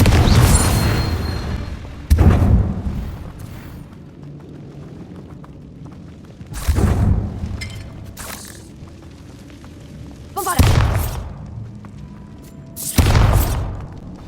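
Confringo spell blasts in the video game Hogwarts Legacy go off as five separate booming explosions at uneven intervals, each a loud sharp burst that trails off into a rumble, with no one speaking.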